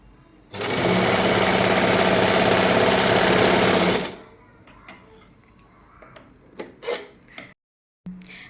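An Usha Janome Stitch Queen sewing machine runs in one steady, loud burst of rapid stitching for about three and a half seconds, then stops, leaving faint handling clicks and small knocks.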